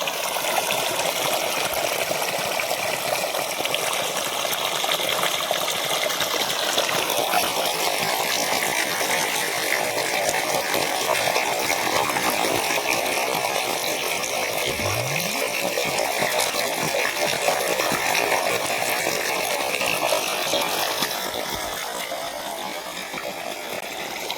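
An electric water pump motor runs steadily in a farm field, a continuous broadband mechanical roar with rushing water mixed in, loud and unbroken, easing slightly toward the end.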